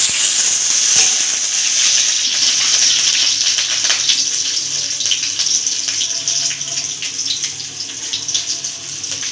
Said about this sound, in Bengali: তেলের মধ্যে দিয়ে দিলাম পেঁয়াজ স্লাইস করে রাখা পেঁয়াজ